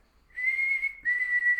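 A person whistles at a board of aldermen meeting, giving two clear, sustained high notes close by with a short break between them, with no talk over them.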